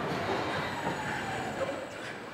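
A roller coaster train, the T Express at a Korean theme park, rolls back into the station with a steady low rumble and faint wheel hiss, loud and continuous with no voices.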